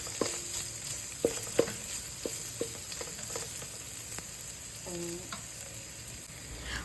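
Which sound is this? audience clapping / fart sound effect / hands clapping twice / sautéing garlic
sautéing garlic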